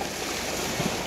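Floodwater surging through a city street in a heavy flood, a dense, continuous wash and roar like pounding sea waves, steady and fairly close with no talk.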